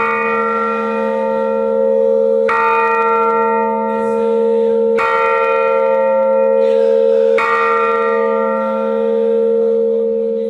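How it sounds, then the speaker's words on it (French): A mission church bell rings loudly and close, four strong resonant strikes about two and a half seconds apart, each leaving a long humming decay that carries into the next. "la cloche a été donnée par la famille d'un prêtre français qui était en mission ici"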